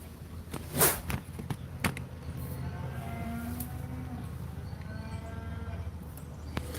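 Cattle mooing outdoors on a farm, a few low drawn-out moos rising over a steady noisy background, with a sharp crack or thump near the start.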